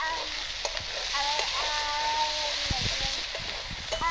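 Spice paste for a Bengali tengra fish curry sizzles and fries steadily in oil in a pan, a continuous close crackling hiss with occasional stirring scrapes and clinks.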